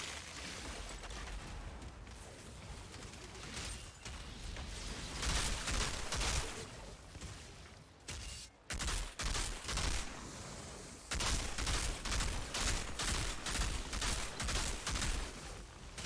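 Dense bursts of automatic gunfire from the shooter game Outriders, played with a Technomancer build. Loud, sustained volleys come in waves, with a brief lull midway before the firing resumes.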